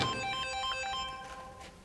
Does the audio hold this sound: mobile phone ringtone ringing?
yes